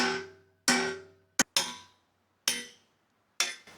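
Six sharp, ringing hammer blows strike a metal boom extension part nearby, spaced irregularly with short metallic decays between them and one lighter tap in the middle.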